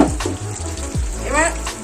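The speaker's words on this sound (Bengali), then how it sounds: "আর একটু জল দিয়ে দিই, সামান্য জল দিয়ে দিই" Water is poured into a pan of hilsa fish being made into ilish bhapa, a short splashing pour in a home kitchen with a voice briefly heard beneath it.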